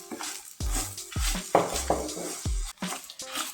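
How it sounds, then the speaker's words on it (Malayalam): Grated coconut roasts in a pan on low heat while a spoon stirs and scrapes, giving irregular clinks and scraping bursts with a soft sizzle between them, close by, with no talking. "കുറച്ചൊരു 10-20 മിനിറ്റ് ഇത് നന്നായിട്ട് ചെറിയ തീയിലിട്ട് വറുത്തെടുക്കണം"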